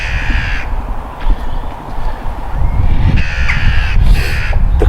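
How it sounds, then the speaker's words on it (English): Several harsh caws from a crow ring out at an allotment plot, loud and close, in two main bursts over a continuous rumbling outdoor background. "The crowing."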